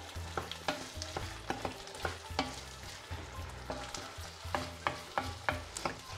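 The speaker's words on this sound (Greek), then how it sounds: "προσθέτουμε και το καρότο και αφήνουμε να μαγειρευτεί. Ανακατεύω." Carrot cooking in a pan while it is stirred: a soft sizzle runs beneath repeated, fairly regular scrapes and taps of a utensil against the pan, close and unaccompanied by voices.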